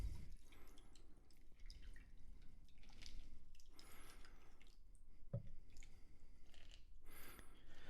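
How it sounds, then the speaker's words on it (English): A cocktail poured into a rocks glass over ice gives a steady trickling, dripping liquid sound with soft crackles from the ice, close and fairly quiet, with no voices. "I'm going to go ahead and pour the drink in there."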